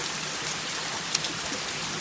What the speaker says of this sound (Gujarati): ફૂલ વરસાદ પડે છે જો અત્યારે